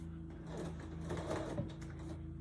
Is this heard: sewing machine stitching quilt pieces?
yes